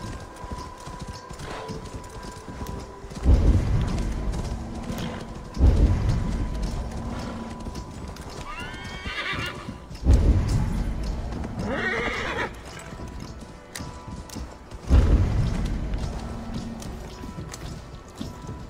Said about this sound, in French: Allez, le cheval court là.